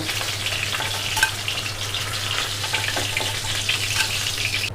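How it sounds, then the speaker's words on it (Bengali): Hilsa fish frying in oil in a pan, a dense, crackling sizzle that stays steady and close, with a few brief pops and no voices. "মাছগুলো একদিক ভাজা হয়ে গেছে, এবার আমি উল্টে দিচ্ছি মাছগুলোকে, দিয়ে অন্য দিকটা ভাজা হয়ে গেলে তুলে নেব।"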